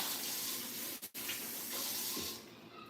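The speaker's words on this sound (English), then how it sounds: "Let me wash my hands again." Tap water runs into a sink while hands are washed in a kitchen: a steady, close hiss broken by a brief dip where the flow is interrupted, then fading near the end.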